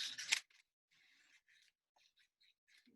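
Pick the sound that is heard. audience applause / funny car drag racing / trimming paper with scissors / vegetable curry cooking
trimming paper with scissors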